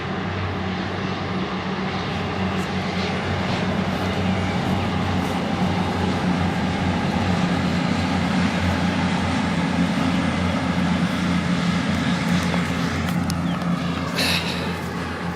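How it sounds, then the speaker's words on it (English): A loud, steady rumbling roar of a passing Virgin Trains passenger train fills the whole stretch, constant and close, with no voices. "Another train, pretty decent one this one. Virgin trains."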